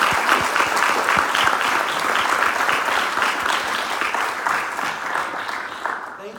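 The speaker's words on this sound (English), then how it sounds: "Let's give him a round of applause." Applause fills a hall as the audience claps for a speaker at an education talk, dense and sustained for several seconds before tapering slightly.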